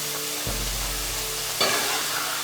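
Sliced cassava chips frying in hot oil over a low flame, giving a steady soft sizzle with a couple of louder bursts, as if the pieces are being stirred, and no voices.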